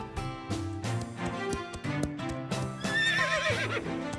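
Animated horses whinny in a loud, shrill, wavering call, with hoof clip-clops and rhythmic knocks mixed in behind a musical cartoon soundtrack.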